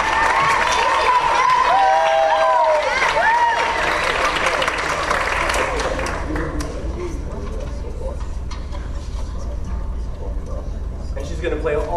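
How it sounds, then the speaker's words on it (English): A crowd claps and cheers for several seconds at a 4th and 5th grade band and string concert, then the applause fades into quieter room noise. "Round of applause."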